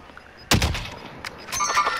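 In Call of Duty: Modern Warfare, a sharp, loud gunshot cracks out near the middle, followed by a couple of fainter shots with metallic clinks in a quiet moment.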